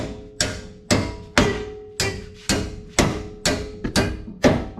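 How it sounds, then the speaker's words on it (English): Nine sharp metallic hammer strikes ring out at a steady pace on the steel cross member of a 2015 Ram 2500 truck, each leaving a brief ringing tail, with no talking. "I'll take a hammer and beat this back"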